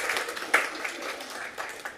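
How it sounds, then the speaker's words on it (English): A group claps for one another right after singing the national anthem, a brief burst of mixed applause from several people that fades and thins out within two seconds. "we can clap for each other"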